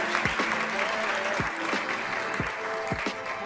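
Audience applause for painter Pascal Mpek, a sustained patter of clapping with some tonal sounds woven through it, and occasional voices beneath it.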